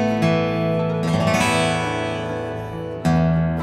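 An unplugged Kazuki All Solid rosewood acoustic guitar rings out in a few strummed chords, with a fresh strum near the start, another around one second and a final one near the end, close and clear with sustained, bass-rich decay.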